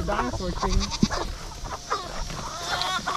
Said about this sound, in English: we're gonna feed the goats, keep them busy